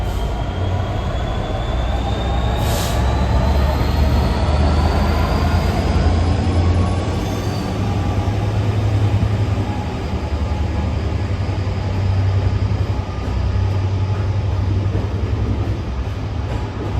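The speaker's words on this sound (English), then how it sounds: "And also driving in is a 66585 Freightliner." Freightliner Class 66 locomotive 66585 hauling a ballast train rolls through Carlisle, a loud continuous diesel rumble with steady rail and wheel noise and a faint high squeal throughout.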